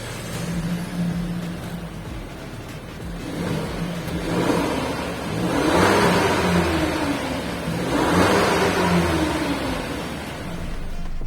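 A Peugeot 2008 with a 1.2-litre three-cylinder engine idles, then revs up twice in swelling bursts that rise and fall back, heard close and without talk.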